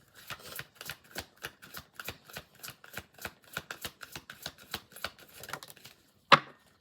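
Wonderless Clarity tarot cards shuffled by hand in a steady run of crisp riffling bursts, about a dozen evenly spaced, close and moderately loud with no talking, ending in one sharp louder snap.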